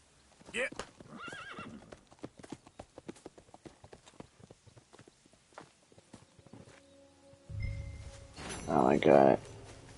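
A horse in Red Dead Redemption 2 clip-clops along with a steady run of hoofbeats, then gives a loud, close whinny near the end, and voices talk over part of it.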